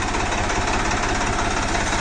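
A Swaraj 963 FE 4WD tractor runs a rotary tiller for banana mulching in creeper first gear at 1700 engine RPM with 540 RPM PTO, a loud, steady, close diesel drone with rhythmic low throb.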